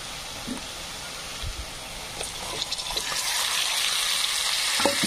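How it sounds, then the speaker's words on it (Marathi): Tomatoes fry with onions in a pan for a sprouted-bean usal gravy. A soft crackling sizzle with wet bubbling builds steadily louder, broken by occasional light clinks and stirring scrapes, with no one talking. "छान टमाटे पण फ्राय होऊ द्यायचे आहेत आपल्याला"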